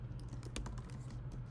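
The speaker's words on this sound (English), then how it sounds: "I will hit the return key on my keyboard to send it" Soft clicks of keys on a computer keyboard, including a press of the return key, tapped in a quick, quiet run in a still room.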